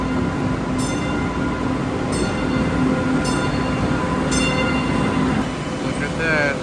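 An MBTA subway train arriving at Symphony Station, a steady loud rumble of rolling cars with repeated bright squeals and clicks, and a rising whine near the end.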